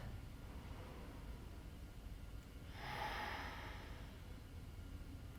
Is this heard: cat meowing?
no